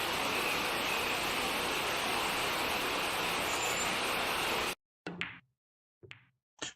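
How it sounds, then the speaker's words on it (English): A loud, steady rush of waterfall-like broadband noise fills nearly five seconds, then cuts off abruptly and is followed by a few short, sharp knocks. "And that's a waterfall."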